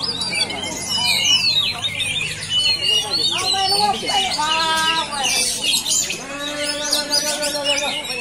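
Oriental magpie-robin singing at a bird song contest, loud varied whistles, trills and rapid sweeping phrases close by, with other birds and faint voices from the crowd mixed in.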